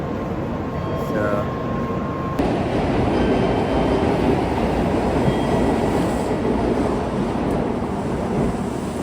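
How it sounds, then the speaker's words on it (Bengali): A train rolls past on the tracks in Hiroshima, Japan, a loud, continuous rumble and rushing noise that persists throughout while someone talks nearby. "দেখেন অবস্থা ট্রেন এই যে চলে যাচ্ছে"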